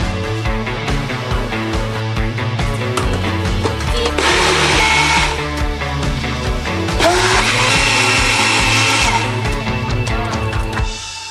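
A blender whirs loudly making a smoothie over steady background music, its motor pitch surging in two long bursts before settling back.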